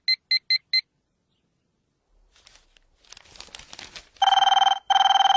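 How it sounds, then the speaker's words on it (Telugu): A telephone rings in bursts: four quick chirps, then rustling and crinkling, followed by two long, loud electronic rings close at hand. "అబ్బా, ఈ ఫోన్ చంపేస్తున్నా"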